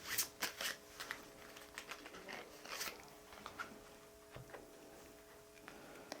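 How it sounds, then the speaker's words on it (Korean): Soul message cards being shuffled and drawn: soft papery flicks and light taps, a few sharper ones early on, then thinning out, faint and alone in a quiet room. "소울 메시지 카드 뽑겠습니다."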